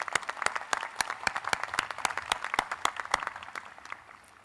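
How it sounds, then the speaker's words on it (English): A commencement crowd applauds faculty award recipients at a university graduation ceremony, with dense, sustained clapping from many hands that gradually thins toward the end. "Let's give them one more round of applause for their great work."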